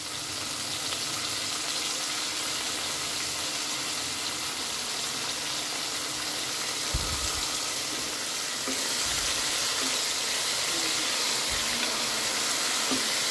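Soft, steady sizzling of dal soup (pappucharu) cooking in a pan, a continuous hiss with a few faint low clunks of stirring or utensils.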